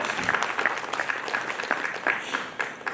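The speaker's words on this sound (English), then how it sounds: "please welcome Arvind Singhal with big round of applause" At a road show event in Haridwar, an audience applauds a panelist's welcome with a brisk patter of many hands, moderately loud and fairly even, fading slightly toward the end with no speech.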